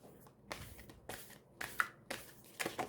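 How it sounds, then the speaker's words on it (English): Overhand shuffling of a tarot deck, sounding as a series of soft papery riffles and slaps, about six short bursts in a loose rhythm, close and fairly quiet with no talk over it. "Last shuffle."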